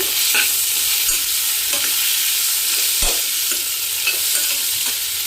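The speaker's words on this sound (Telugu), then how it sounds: "ఉల్లిపాయ మంచిగా వేగిపోయింది ఆలు వేస్తున్నాను మంచిగా స్మాష్ చేసుకోవాలి మెత్తగా" Potatoes tipped into well-browned onions in a pan for aloo curry, then stirred and mashed soft, with steady scraping and clacking of the spoon against the pan over a constant low sizzle, close and without talk.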